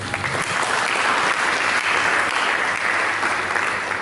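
A church congregation gives a sustained, loud round of applause during a sermon service, thick even clapping filling the space with little else heard.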